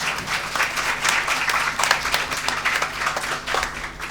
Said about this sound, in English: please give these three brave women a round of applause